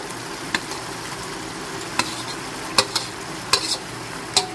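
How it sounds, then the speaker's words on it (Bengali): Okra goes into a pan of spice masala fried with chilli and turmeric and is stirred in, making a soft steady sizzle broken by sharp spatula scrapes and knocks at irregular moments, with no voices. "এবার আমি এর সাথে দিয়ে দিচ্ছি ভিন্ডিগুলো"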